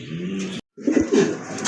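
Large pigeons kept in a loft coo softly at close range, two low throaty phrases broken by a short silence.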